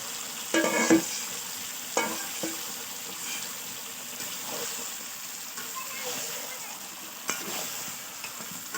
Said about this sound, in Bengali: মাংসটা তো তৈরি করে নিয়েছি এবার এই মাংসটা এর মধ্যে ঢেলে দেব